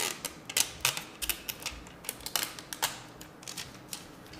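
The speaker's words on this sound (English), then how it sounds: "I'm going to go ahead and peel this little screen protector." A thin plastic screen protector peeled off a COBB Accessport, a quiet series of crisp ticking and crackling snaps in an uneven rhythm, close and soft.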